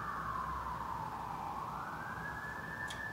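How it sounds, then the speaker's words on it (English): An emergency vehicle siren outside in downtown Toronto wails in a slow, rising and falling sweep, heard somewhat distant through an open door over a low steady rumble. "I might have to shut it if these sirens don't stop."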